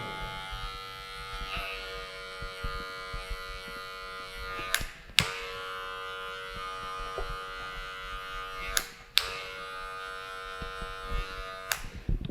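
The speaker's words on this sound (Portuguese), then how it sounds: "agora eu venho com a minha máquina sem pente, terminando de desmarcar" Electric hair clipper without a guard comb buzzing steadily while finishing a taper fade in a barbershop, a close continuous hum with a few sharp clicks and brief bursts as the blade touches hair.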